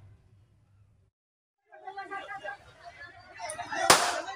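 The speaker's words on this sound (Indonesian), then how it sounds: "Tembakan peringatan ke udara dilepaskan jajaran Polres Cirebon untuk meredam aksi massa" After a near-silent start, a crowd's agitated voices rise, then a single sharp police warning shot fired into the air cracks out loudly above them, in Cirebon, Indonesia.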